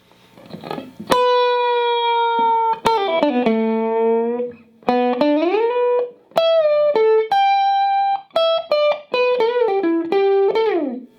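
Electric guitar playing the opening lines of a song, clear single-note phrases with slides and bends between held notes, close and prominent, no voices.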